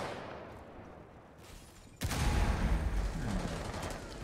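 Gunfire in the zombie shooter Left 4 Dead breaks out suddenly after a quiet stretch and then runs as a dense, continuous burst of shots with no voices over it.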